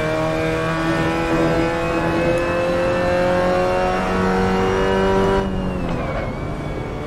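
Mazda MX-5 Cup race car engine held at steady high revs through a lap, loud and close with a continuous harmonic drone, then a downshift and brief dip in pitch near the end.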